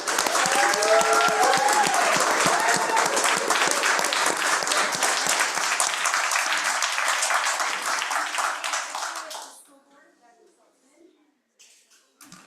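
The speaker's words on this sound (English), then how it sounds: "let's give them a round of applause" An audience at a school board meeting breaks into sustained applause, dense clapping with scattered cheers that runs about nine seconds and then cuts off, leaving near silence with a few faint sounds.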